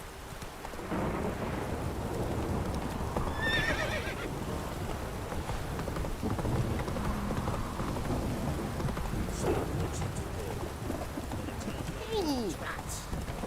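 Horse neighs and galloping hooves in The Witcher 3, heard under steady rain and rolling thunder, with a couple of whinnies partway through and voices talking over the scene.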